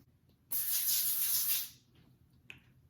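A single steady burst of olive oil cooking spray onto parchment paper, close and loud, hissing for just over a second before stopping, with a faint click afterward.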